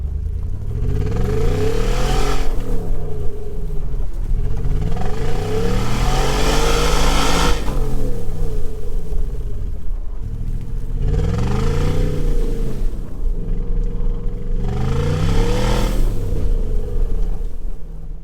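An Audi S4 engine revs repeatedly in loud surging bursts, pitch climbing and falling with each rev, close to the microphone with a steady idle rumble between.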